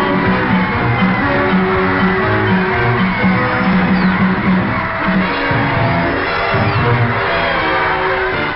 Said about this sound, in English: moves on down Pennsylvania Avenue past the wildly cheering throngs